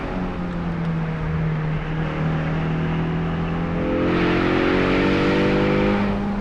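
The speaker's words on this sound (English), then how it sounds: "When the exhaust valves open up, it sounds really loud." A 2024 Ford Mustang with its exhaust valves open, heard from inside while driving, its engine droning steadily and then swelling louder as it revs up partway through.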